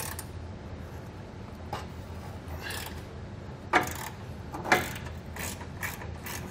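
A ratchet socket wrench with an 11/16 socket works loose the bumper nuts on a 2020 Jeep Wrangler, giving soft ratcheting clicks and two sharper clacks of metal amid low background noise, with no voices.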